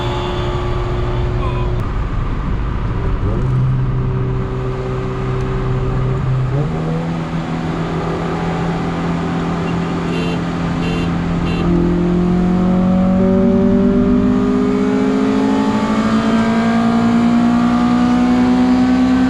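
All-motor Honda CRX with a B17 engine revving on a dyno, a loud sustained engine note climbing steadily in pitch through long gears, with a brief dip and shift partway before pulling hard again to the end.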